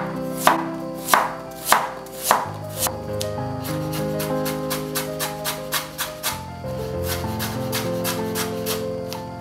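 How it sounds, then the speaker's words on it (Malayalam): A knife cuts ginger into julienne strips on a board, a few sharp, spaced chops followed by a quicker run of lighter, regular taps, close up, with background music underneath. "അതുപോലെ ജിഞ്ചർ നന്നായിട്ട് ജൂലിയൻ ആയിട്ട് അരിഞ്ഞെടുക്കുക."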